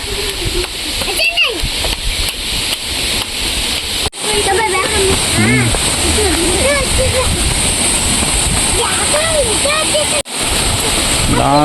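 Rushing water from a waterfall forms a loud, continuous backdrop while a family chatters and calls out over it, with children's voices and a couple of brief dropouts.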